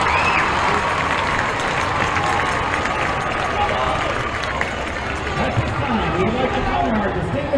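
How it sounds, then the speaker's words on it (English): Stadium crowd applause at a high school football game for the 2021 Hall of Fame inductees, broad diffuse clapping and crowd noise carrying on steadily with a public-address voice speaking over it. "Let's have one big round of applause for your 2021 Hall of Fame."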